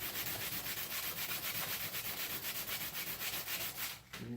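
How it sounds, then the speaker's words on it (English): Hand sanding the plastic underside of a Seydel Saxony harmonica slider gives a rapid, rhythmic back-and-forth scratching, close and quiet, strokes repeating steadily before a brief pause near the end, with no talking. "I can see that it's sanding the whole thing."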